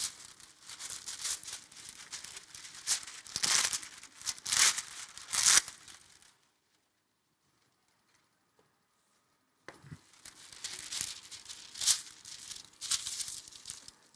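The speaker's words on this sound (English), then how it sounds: "And let's use the piece of that parchment paper." Parchment paper crinkles at a cooking demo, a close, bursty rustle with sharp crackles that falls silent for a few seconds and then resumes.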